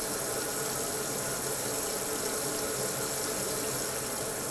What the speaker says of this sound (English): Scrub the palm of the hand 10 strokes.